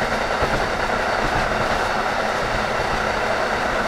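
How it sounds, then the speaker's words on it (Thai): A long eight-car passenger train on a special holiday service runs along the rails, producing a loud, steady, close rumble with faint rhythmic clatter throughout and no voices. "ครับโอ้รถไฟยังยาวอ่ะ"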